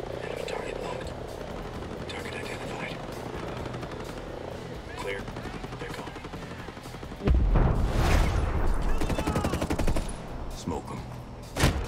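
Gunfire in the tactical shooter Ghost Recon Breakpoint, a dense burst of shots breaking out loudly in the second half after a stretch of quieter ambient game sound.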